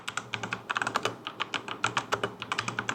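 Mechanical keyboard typing on an MCHOSE X75, a fast, irregular run of crisp close-up clicky keystrokes with a few heavier thocks, alone with no talk.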